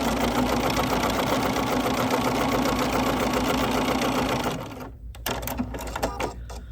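A sewing machine stitches a quilt block, running steadily and close for several seconds before stopping, leaving a few short clicks and handling noises.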